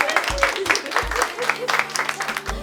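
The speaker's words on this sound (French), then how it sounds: "Oh non, on applaudit." A few people on a short-film set clap in scattered, uneven bursts, close by and fairly loud, with voices chattering alongside.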